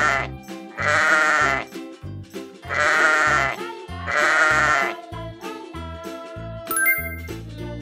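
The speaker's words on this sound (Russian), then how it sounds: "Овечка." Three loud, drawn-out cartoon sheep bleats repeat in an even rhythm over a light children's tune with plinking chimes, each bleat close and clear.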